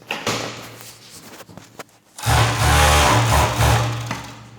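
A five-thread overlock sewing machine runs during a looper adjustment, first with a soft hum and then rising into a loud, steady, buzzing stitch that lasts to the end.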